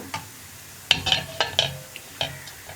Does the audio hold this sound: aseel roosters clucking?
no